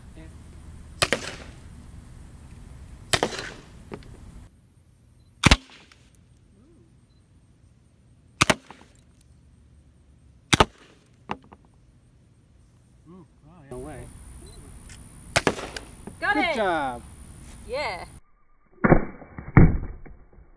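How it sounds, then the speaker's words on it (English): A Pepperball Lifelite launcher flashlight fires rounds at a target outdoors: several sharp, close pops spaced seconds apart, each a sudden loud crack, with brief voices near the end. "We'll set up a target and fire off some rounds so you can see this in action."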